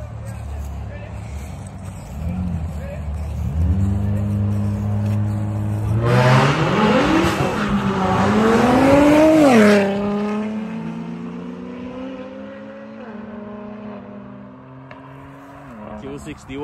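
An Audi and an Infiniti Q60 3.0 race side by side, engines roaring louder as they accelerate and rise in pitch through the gears, then fading into the distance, with people talking throughout.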